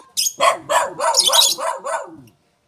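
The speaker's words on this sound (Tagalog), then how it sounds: "Maingay ba yung aso?" A dog barks five or six times in a quick, loud run close by, each bark ringing and slightly hoarse, ending with a short tail of whimpering yelps before silence.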